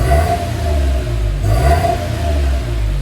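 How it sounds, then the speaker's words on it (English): A 2002 Suzuki Carry mini truck engine revs through a modified, throaty exhaust, a close, loud, rumbling low drone that swells and eases with throttle blips. "the exhaust sounds way different"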